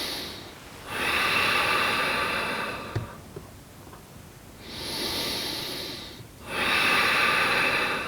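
Slow, deep breaths during a vinyasa flow yoga session, close and audible, with long breathy inhales and exhales alternating with quiet pauses, three strong breath cycles in a row.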